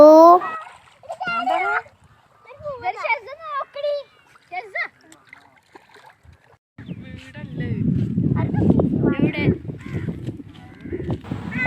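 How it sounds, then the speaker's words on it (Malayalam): On the Bharathapuzha riverbank, children's voices and shouts ring out over quiet gaps before vigorous, continuous splashing of people playing in the river water fills the second half. "ഞങ്ങൾ കുറച്ച് നേരം വെള്ളത്തിലൊക്കെ കളിച്ചു"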